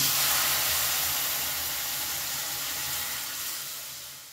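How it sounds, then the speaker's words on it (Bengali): Half a litre of warm milk goes into a pan of lightly fried vermicelli on a gas flame, a steady loud hiss and sizzle that slowly fades over a few seconds, with no talking. "এবার এর মধ্যে আমি দিয়ে দিচ্ছি হাফ লিটারের মতন দুধ।"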